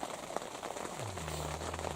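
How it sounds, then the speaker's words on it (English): Steady rain falls outside a hunting blind during a moose hunt, a soft, even patter with scattered drops and a low hum entering partway through, faint and continuous with no voices. "It's been raining all day."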